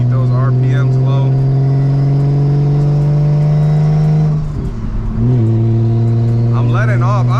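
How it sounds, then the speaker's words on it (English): A BMW 335i with a big turbo upgrade accelerates in a steady loud engine drone, dips as the throttle lifts around the middle, then pulls again, heard from inside the car. "I love to hear that turbo, so that's why you see me letting off a lot."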